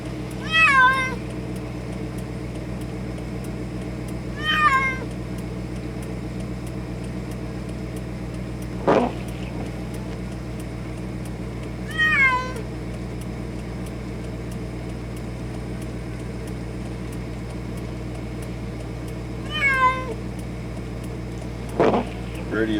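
Cats meow from inside a car on a trip, about five separate plaintive cries spaced several seconds apart, with a couple of sharp knocks, all over a steady low road and engine drone.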